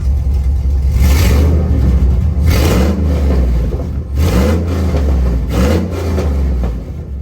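A loud car engine fitted with long-tube headers revs repeatedly, rising and falling in several throaty pulls with a deep rumble, close up, sounding like a dirt track car.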